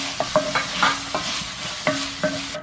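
Three small-chopped tomatoes sautéed and stirred in a pan of sizzling masala for a fish curry: a spoon scrapes through the pan in quick, irregular strokes over a steady frying hiss, close and clear, with no talking.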